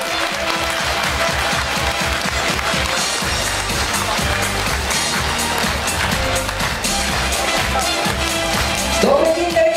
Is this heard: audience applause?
yes